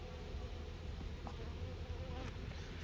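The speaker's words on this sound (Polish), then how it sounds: "Osy wszędzie." Wasps swarm around a beehive at an apiary, giving a continuous low buzzing hum with many insects droning close by and overlapping, steady and fairly quiet throughout with no talk.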